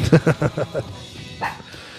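A dog barking indoors in a rapid burst of four or five loud, close barks, then a softer yelp after a short pause.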